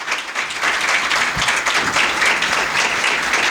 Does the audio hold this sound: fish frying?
no